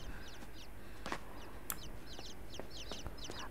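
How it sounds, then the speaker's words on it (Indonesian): Bird chirping in a video game, short twittering calls repeated through the clip over a quiet background, with a few soft clicks and knocks. "Ada anak ayam lagi. Eh bukan deh, burung."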